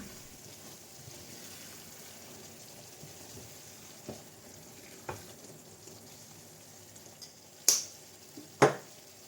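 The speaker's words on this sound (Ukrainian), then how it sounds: "Потрібно все ретельно перемішати та дати овочам трошки протушитися." Vegetables with salt, black pepper and khmeli suneli stewing in a pan for shakshuka, a low steady sizzle with a few sharp clicks of stirring near the end, no voices.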